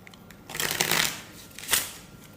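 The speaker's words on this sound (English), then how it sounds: "So then they shuffle the deck." A deck of playing cards is shuffled during a card force trick, two quick riffling bursts of crisp paper fluttering, close and fairly loud, with no talking.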